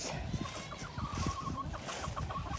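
Hens cluck and murmur nearby in short, irregular bursts on a farm, a soft chorus of chicken chatter over a low background rumble.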